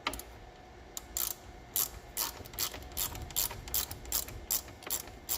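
A socket wrench ratchets in quick bursts of clicking while working on Mustang headers, close and crisp, with short pauses between strokes and no talk.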